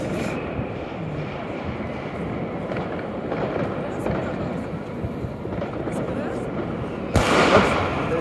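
New Year's Eve fireworks and firecrackers banging in a Berlin street, a dense continuous crackle of distant bursts under crowd noise and talk, with a louder close burst near the end.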